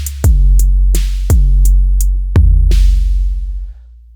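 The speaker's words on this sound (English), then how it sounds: "we have the scenario with the cowbell" Loud cowbell hits, about eight strikes in an uneven pattern with low thumping resonance under each, ringing out alone and close.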